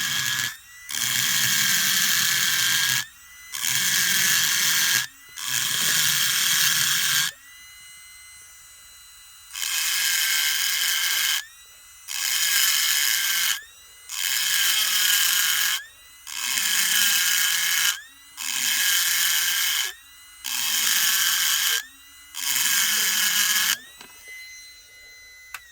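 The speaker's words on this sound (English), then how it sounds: "I want to show you the cut quality of these burrs." A double cut carbide burr grinds metal at about 12,000 RPM in eight or nine bursts of a few seconds each, a loud, bright high whine with short quiet pauses between cuts.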